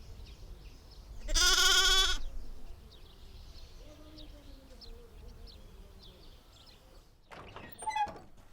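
Sheep and goats bleat from a flock on the move in rural Georgia, with one loud, close bleat early on, then fainter calls, bird chirps and a brief clatter near the end.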